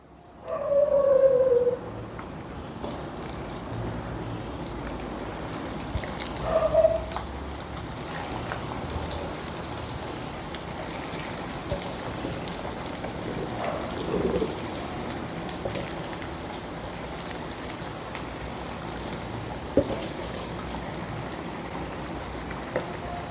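Chicken pakoda pieces deep-fry in hot oil for street-style pakoda, a steady fizzing sizzle throughout, with a louder burst at the start and a few brief pops.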